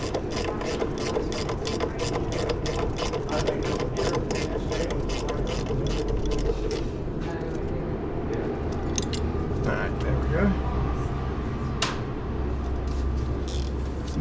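A ratchet works on the valve cover bolts of a Toyota 5VZ-FE 3.4 liter engine, with rapid close clicking at first that becomes sparser, alongside some talk.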